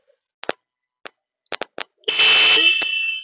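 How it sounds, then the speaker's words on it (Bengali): A Royal Enfield Meteor 350 motorcycle's genuine horn sounds one loud sustained honk lasting about a second, preceded by several short clicks of handling the switch. "আমি আপনাদেরকে এর হর্নটা একটু শুনিয়ে দেবো।"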